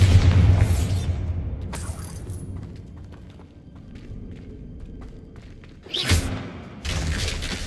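In the Hogwarts Legacy video game, a Bombarda spell sets off a heavy booming explosion with rumbling debris, followed by quieter thuds and footsteps and then another burst of crashing impacts near the end.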